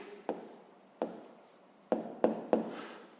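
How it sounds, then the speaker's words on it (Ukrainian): A pen writing out a maths answer by hand, a few short scratchy strokes with pauses between them, close and quiet with no talk. "записуємо тоді відповідь"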